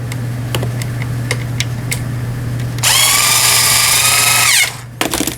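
A power driver runs four screws into a Japanese domestic sewing machine under repair: light clicks and taps first, then a steady close whine for about two seconds that winds down, followed by a few knocks.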